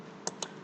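A few separate computer keyboard keystrokes while entering a command to check the npm version during a Node.js installation, quiet and close, with short gaps between the clicks.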